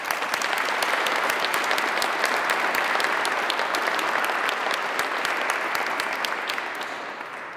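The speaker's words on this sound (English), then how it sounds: "Let's give them a round of applause." An audience at a 2021 Veterans Day ceremony in Cleveland gives a sustained, dense round of applause, loud and steady for several seconds before easing slightly at the end, with no talk over it.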